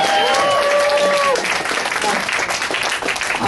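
Comedy club audience breaks into sustained, dense applause filling the room for several seconds, steady and fairly loud, during a stand-up set after a joke about a 20th wedding anniversary.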